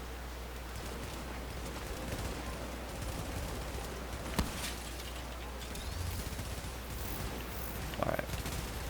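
Gunfire in The Division, a quiet, busy stretch of scattered shots and bursts against a steady rumbling background, with a couple of sharper reports standing out.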